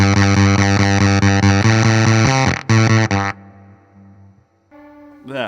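A guitar is struck hard through an EHX Ripped Speaker fuzz pedal, giving loud, heavily distorted chords in quick repeated hits that then die away into thinner sputtering notes.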